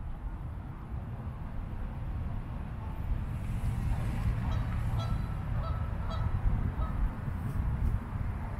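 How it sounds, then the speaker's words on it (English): Geese honk at a city-park lake in St. Louis's Lafayette Square, scattered calls at moderate distance, faint and sporadic over a steady low rumble of wind and outdoor background. "There's a lot of geese at this lake here."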